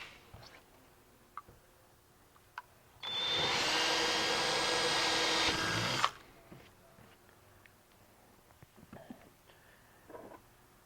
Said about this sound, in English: take a drill with a 13/64" bit and drill right on the two dots.